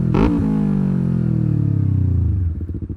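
Highly modified Yamaha R3 motorcycle with a full exhaust, a loud close engine rev that swells sharply then winds down into a steady, throbbing idle with rapid pulsing.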